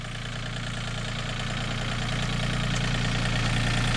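A Yanmar 35 hp tractor engine runs steadily close by, a low, even diesel idle that rises slightly in loudness as gears are shifted, with no talking over it.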